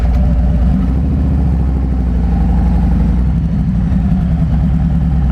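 A motorcycle engine idles steadily up close at a gas station, a loud, even low rumble with no talk.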